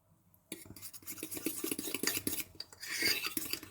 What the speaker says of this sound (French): On mélange. Vous voyez, la pâte est super lisse.